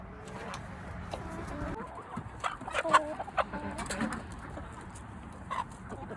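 A rooster clucks in a backyard flock, a string of short, uneven calls over steady outdoor background, some close and loud, others softer, with no talking.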